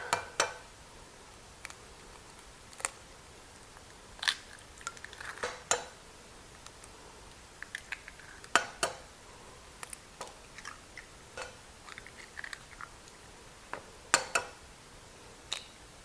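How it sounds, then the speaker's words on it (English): Sharp, clicky cracks and taps of six eggs being broken into a medium or large mixing bowl, with scattered light knocks spread unevenly over a quiet kitchen background. "In a medium bowl or a large mixing bowl, we're going to crack in 6 eggs."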